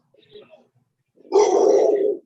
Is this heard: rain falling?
no